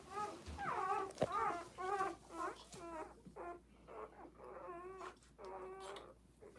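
Young puppies whimper and whine in a run of high, thin, wavering cries that come and go, fairly close but soft, with faint rustling between the calls and no speech.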